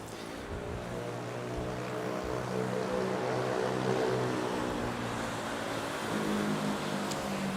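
An A320neo airliner at Manila's NAIA airport, near runway 24, produces a steady, loud engine roar with a droning tonal hum that holds for the whole stretch. No one speaks.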